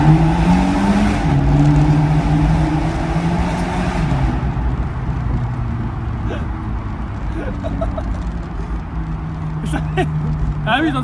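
A Fiat 124 Spider Abarth engine revs inside a tunnel, rising and falling in loud echoing pulls under a constant road drone, with people talking in French inside the car.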